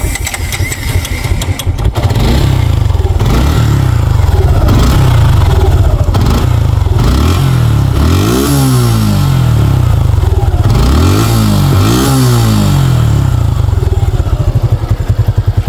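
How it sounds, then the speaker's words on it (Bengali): A used Suzuki Gixxer Monotone motorcycle starts up close, idles with a loud, steady thump, and is then revved twice in sharp rising bursts before settling back to idle. "বাইকের কিন্তু এখন স্টার্ট করে সাউন্ড কন্ডিশন দেখো"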